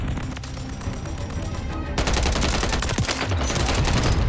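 Gunfire in the shooter game Call of Duty: Warzone, dense and continuous with rapid automatic bursts that turn louder and harsher halfway through, steady and close with no talk over it.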